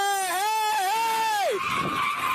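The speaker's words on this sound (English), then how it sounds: "So you can hear the tires screeching of other vehicles." Tires screeching on a road as vehicles brake hard, a loud wavering squeal lasting about a second and a half before breaking into rough noise.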